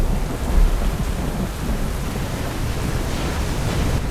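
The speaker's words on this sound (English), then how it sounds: "What else can we find in this damn rain?" Steady heavy rain with low rolling thunder from Mass Effect 3, a broad continuous wash that stays loud and constant throughout with no talking.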